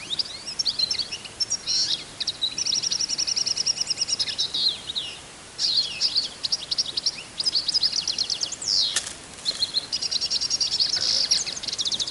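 A songbird calls repeatedly in rapid high chirping phrases with short pauses between them, fairly close, over quiet background.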